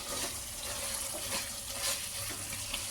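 Chicken fries in hot oil during tempering for a chicken biryani, giving a soft, steady sizzle with faint stirring scrapes in a quiet kitchen.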